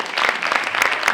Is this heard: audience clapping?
yes